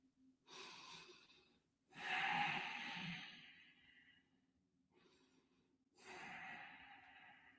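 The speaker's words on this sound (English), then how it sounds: "You see how I can hear my own breathing?" Close, soft breathing in a very quiet indoor room: several slow inhales and exhales with pauses between them, and no other sounds in the background.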